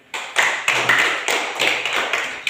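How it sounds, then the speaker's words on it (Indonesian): A primary school class applauding a student who answered correctly, a burst of many small hands clapping up close in uneven rapid pats, with a faint voice underneath. "Tepuk tangan untuk Ina."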